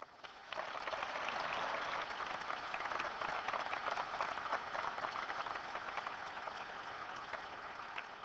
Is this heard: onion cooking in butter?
no